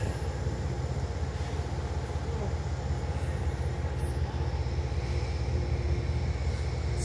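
A train rumbles steadily nearby at the Albany train station, a continuous low mechanical roar with faint higher whines, unbroken for the whole stretch.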